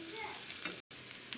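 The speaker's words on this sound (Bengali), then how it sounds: "এখানে আস্ত কিছু কাঁচা জিরা দিয়ে দেব, দিয়ে একটু ভেজে নেব।" Chopped onion and whole cumin seeds frying in oil, a soft close sizzle with light stirring scrapes through a brief snippet broken by a moment of silence.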